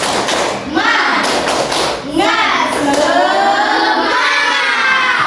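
Classroom of pupils performs a rhythmic clapping chant, loud patterned hand claps and thumps mixed with children's chanting voices close by.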